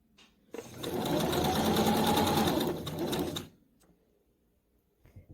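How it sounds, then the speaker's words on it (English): Sewing machine stitching a seam along the edge of a caftan dress's back bodice piece, a steady fast whirring run of about three seconds that starts and stops abruptly, close and clear with no talk. "Then stitch along this edge with a small seam allowance."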